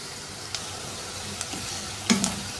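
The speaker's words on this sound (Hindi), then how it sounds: "प्याज को इतनी देर तक पकाएंगे कि इसकी रंगत तब्दील हो जाए और ये थोड़ा नरम पड़ जाए।" Chopped onion fries in a karahi with a soft, steady sizzle, broken by a few quick clinks and scrapes of stirring, with the loudest one near the end.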